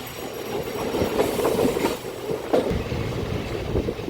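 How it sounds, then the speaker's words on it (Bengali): A local train rumbles steadily into Hijli station at night with rolling wheel noise and occasional clanks, a continuous moderately loud mechanical roar throughout. "তোমরা দেখতে পাচ্ছ হিজলিতে ট্রেন প্ল্যাটফর্মে ঢুকছে"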